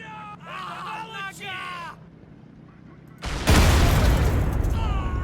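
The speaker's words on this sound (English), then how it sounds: "Wow, an explosion so big it lit this man up on fire inside the building" A huge tank gun blast erupts in the WWII strategy game Men of War: Assault Squad 2, a sudden loud booming explosion with a long rumbling roar that follows a stretch of speech and quieter battlefield background.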